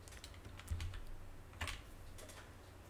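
Steady typing on a computer keyboard, a continuous patter of quick key clicks with a couple of slightly heavier strokes, close and fairly quiet, with no talking.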